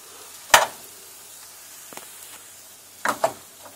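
Eggs are mashed into garlicky potatoes in a frying pan, giving two or three brief, close scraping clatters against a quiet background.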